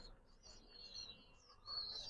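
Faint bird calls, thin chirps and tweets repeating over quiet background hiss, with a slightly louder burst of chirping near the end.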